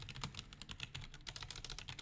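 Rapid typing on a computer keyboard, with dense, irregular key clicks in a steady run close up and no talk over it.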